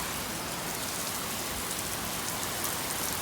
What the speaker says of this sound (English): It's pouring down raining. It is raining. I mean hard. Torrential downpour,